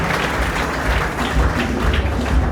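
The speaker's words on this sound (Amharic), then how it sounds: "ለጌታ እልልታ ጭብጨባ" A church congregation applauds and ululates at a prophetic service, a steady dense wash of clapping with trilling voices mixed in, continuous and fairly loud throughout.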